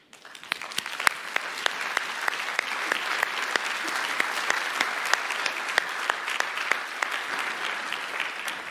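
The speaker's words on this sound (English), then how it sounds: "I hope you appreciate that round of applause" A room full of people at a political meeting or press event applauds steadily, a dense continuous patter of many hands with a few sharp individual claps standing out, close and sustained throughout.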